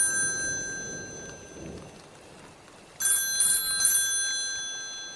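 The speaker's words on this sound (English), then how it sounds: "A phone call awoke Lucy and Desi in the middle of the night." Telephone ringing as a sound effect in a radio program comes in after a low rumble and a brief quiet stretch, with a few bright rings in quick succession.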